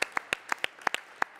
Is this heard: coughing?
no